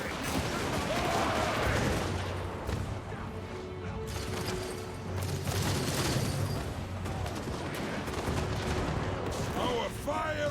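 Dwarf Thunderers firing guns in a Warhammer battle game at Karak Kadrin, a rapid crackle of volleys and clattering impacts amid battle noise, with voices shouting over it.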